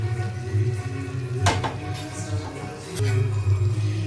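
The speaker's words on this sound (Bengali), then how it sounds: "আমি একটা সাঁড়াশি দিয়ে কড়াইটাকে ধরে এইভাবে ঘুরিয়ে ঘুরে নিচ্ছি, যাতে পনিরগুলো নিচে লেগে না যায়" Clattering metal of a wok gripped with tongs and swirled over the flame while paneer fries inside, steady sizzle under a couple of sharp knocks and scrapes near the start and middle, no voices.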